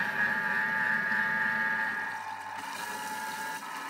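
A Thermomix whizzes strained butter with ice-cold water at a steady, loud motor whir with sloshing liquid, the tone dropping slightly partway through as the blades slow.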